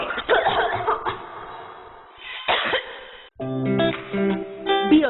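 A person coughs in a cough medicine advert, several sharp close coughs and throat-clearing bursts in the first seconds before music takes over.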